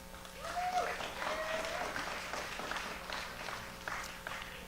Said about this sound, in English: another round of applause for Jackie, please.